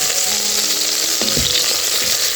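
Matoke and arrowroot mixture frying in a single pan, a steady dense sizzle running throughout with a brief scrape of stirring near the middle, close and loud with no voices.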